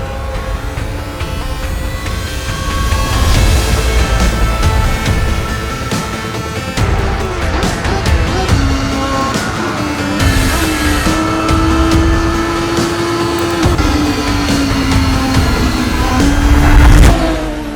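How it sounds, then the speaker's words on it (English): Radical race cars lapping Mandalika International Circuit, a loud continuous engine roar with rising and falling revs and tonal whine, close and steady throughout with no talk. "ride the real experience of our radical cars in Mandalika International"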